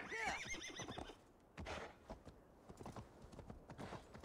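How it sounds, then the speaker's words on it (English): Horse whinnying loudly at the start in Assassin's Creed Valhalla, followed by a steady run of clip-clopping hoofbeats and game ambience. "Skyrim horse right here"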